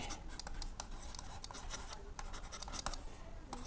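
Marker or chalk writing on a classroom board during a math lesson, a quiet run of short scratchy strokes and taps in irregular rhythm, close and faint, with no talk.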